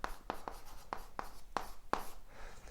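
Chalk or marker strokes on a board make a series of about six sharp taps and short scratches at irregular intervals, close and fairly quiet, with no talking.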